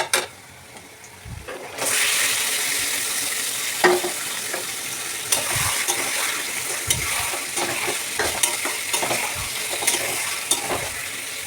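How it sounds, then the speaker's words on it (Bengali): Chicken pieces dropped into a pan of lightly fried onions, a sudden loud burst of sizzling that settles into a steady hiss with repeated stirring scrapes and knocks. "এখন আমি চিকেনগুলো ছেড়ে দেবো।"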